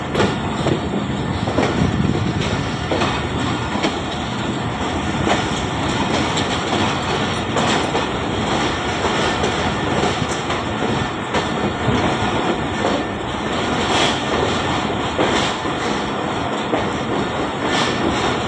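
Jaffar Express passenger train pulling into platform 3 at Rawalpindi station, a steady loud rumble of wheels and engine rolling on continuously without pause, with no voices over it.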